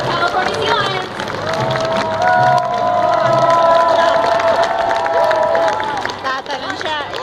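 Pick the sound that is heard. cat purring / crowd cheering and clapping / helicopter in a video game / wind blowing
crowd cheering and clapping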